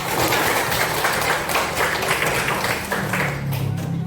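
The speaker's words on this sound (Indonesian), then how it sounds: "Tepuk tangan untuk kita" A class of students claps hands together in a classroom, a dense continuous burst of many hands at close range.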